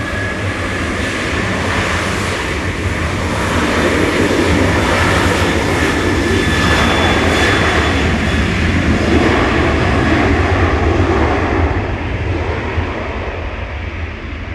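A KLM airliner roars steadily at Manchester Airport, a loud, broad jet rumble that swells in the middle and eases slightly toward the end, with no voices.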